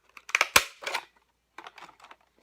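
Scissors snip into a cardboard egg carton up close in short crisp bursts of crunching and crinkling, with a pause before a second run of smaller cuts.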